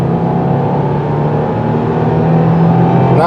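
A turbocharged engine in a 2024 Subaru WRX TR with a six-speed manual pulls steadily up a steep grade, heard from the cabin as a loud, even drone with no voices.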